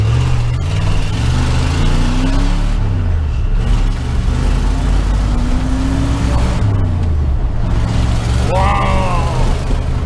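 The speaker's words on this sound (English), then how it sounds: "We got the Jeep back on the road. It's fixed up and we are cruising." Jeep Wrangler YJ, newly fitted with a Ford 8.8 axle, cruising on the road: a loud, steady engine drone with shifting pitch and road rumble heard from inside, plus a brief whine-like squeal near the end.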